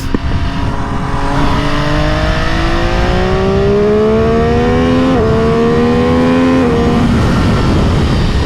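A 2022 MV Agusta F3 800RR sportbike in race mode, its engine loud and close, winding up steadily through the revs with a brief shift partway through under rushing wind noise.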